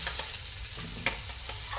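Chopped white onion frying in a pan for a tuna fish curry, stirred with short scraping strokes over a soft, close sizzle, one sharp clink midway.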